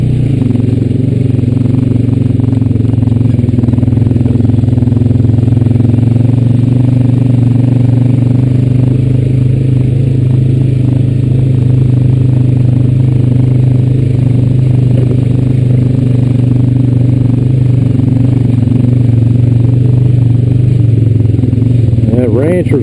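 A Honda Rancher 420AT ATV engine drones steadily and loudly as the quad rides along a trail. A constant low hum carries clatter and rattles through the whole stretch, with no pauses.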